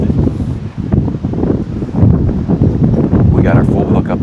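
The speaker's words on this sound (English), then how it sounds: "this side is being blocked by most of the wind" Gusty wind blows across an RV campsite, buffeting the microphone with a rough, rushing roar that swells and dips, steady and close for the whole stretch.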